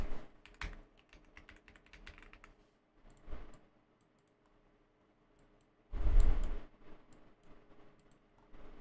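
Typing on a computer keyboard, near and fairly quiet, in bursts of quick clicking keystrokes separated by pauses, with a louder cluster of presses toward the end.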